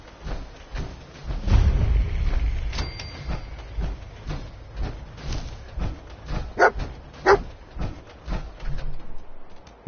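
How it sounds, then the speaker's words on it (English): The dog Dogmeat in the video game Fallout 4 gives several sharp barks spread over ten seconds, fairly close and irregularly spaced, over a steady rumbling game background. "I knew dog meat would sniff our man out."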